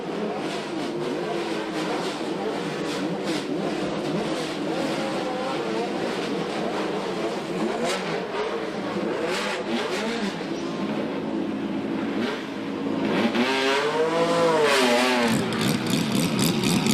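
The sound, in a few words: Group C race cars accelerating out of a crowded pit lane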